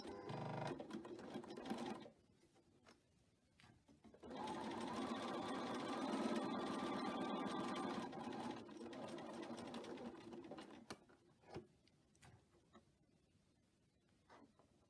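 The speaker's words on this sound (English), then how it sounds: "Let's stitch." Sewing machine stitching quilt pieces for a star block, several close bursts of motor whir separated by short pauses, the longest a steady run of about six seconds.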